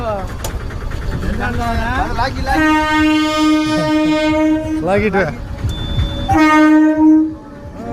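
A train bound for Tenali rolls past close by, its horn blaring in long sustained blasts, with a brief spoken word heard at one point.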